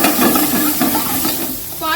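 Gola kebabs frying on a hot tawa give off a steady, close, broadband sizzle and hiss that holds evenly for about two seconds, with no clear voice over it.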